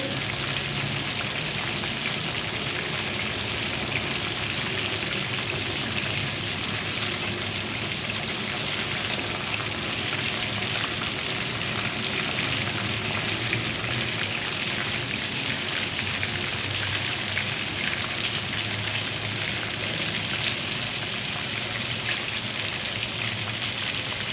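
Chicken pieces fry in hot oil for crispy fried chicken, a steady, dense sizzle and crackle like heavy rain that holds evenly from start to finish with no talking.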